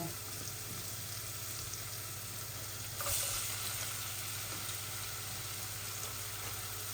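Onions, added after a few pieces of cinnamon, fry in a pan with a faint steady sizzle and a low hum underneath, with a brief louder clatter partway through.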